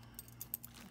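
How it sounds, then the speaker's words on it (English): Metal keys from a bag of jewelry jangle softly in a brief series of small, faint chinks over a quiet hum. "I can always use some cool keys."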